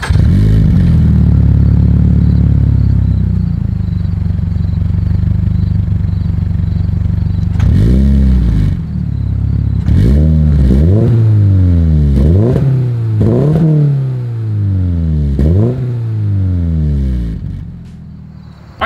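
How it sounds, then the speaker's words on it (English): A 2023 Toyota GR86's exhaust idles with a low rumble, then barks through a series of sharp, rising revs that fall away, repeated about eight times, loud and close. "As always, here is that exhaust clip."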